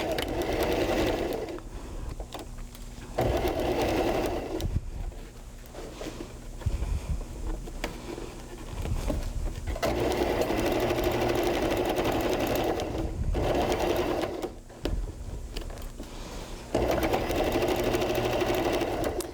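A sewing machine runs in bursts while stitching a loop around a small fabric bunny, its motor whirring steadily at close range with brief pauses between runs.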